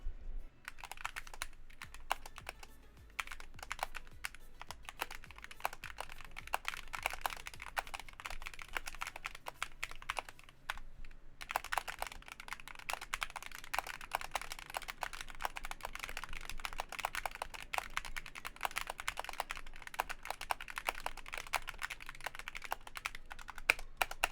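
Fast, continuous typing on a Razer Huntsman V3 Pro TKL mechanical keyboard with crisp, clacky keystrokes, close and steady, with a brief pause near the middle.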